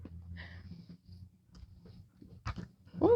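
A puppy pants and breathes heavily in short, ragged bursts close by, with a louder snuffling burst near the end, in a warm room.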